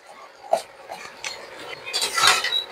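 Soya chunk curry stirred in a pan, heard as a few close spoon scrapes and clinks against metal, building to a louder rattle near the end.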